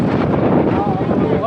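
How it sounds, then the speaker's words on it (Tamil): Strong sea wind at the Kanyakumari coast buffets the microphone in a dense, loud, continuous roar, close and rumbling throughout. "ஆனால் செம்ம காற்றுங்க."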